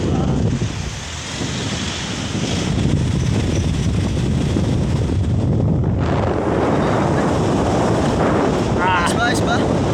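Strong wind roars and buffets the microphone continuously, loud and gusty, with a brief faint chirp near the end.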